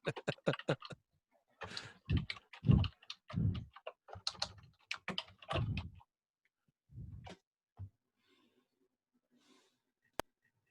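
Bursts of quick keyboard typing on a computer keyboard, close and fairly quiet, with irregular clusters of key clicks separated by short pauses, ending with a single sharp tap, during an online meeting.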